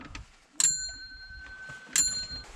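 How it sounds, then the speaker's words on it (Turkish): A small bell hangs at a Buddhist stupa along the Everest Base Camp trek in Nepal. Two bright, ringing strikes about a second and a half apart each leave a long shimmering decay over quiet background. "Bak bunda zil var."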